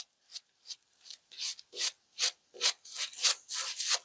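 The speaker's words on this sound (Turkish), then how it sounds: "Evet köpüğümüzü güzelce yaptık." A shaving brush whips shaving soap into lather, giving a close, soft rhythmic swishing and scrubbing in quick repeated strokes with brief gaps between them, with no talk.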